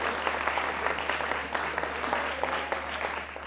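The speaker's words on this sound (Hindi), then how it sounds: "जो प्यारी ऑडियंस भेजी है, जो अभी भी खुश है, तालियां बजा रही है" A studio audience at a Pakistani cricket talk show claps continuously in a dense, moderately loud burst of applause that lasts throughout.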